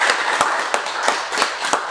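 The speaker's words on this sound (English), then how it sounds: "Big round of applause for Tim." An audience at a hair-industry interview gives a short round of applause, a sparse patter of hand claps at close range with no voices.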